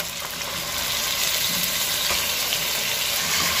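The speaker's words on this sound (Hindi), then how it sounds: "कीमा को अच्छे से भूनना है हमें." Minced mutton keema fries in a pan with onions and ginger-garlic paste, giving off a steady, dense sizzle that holds level throughout without any talk.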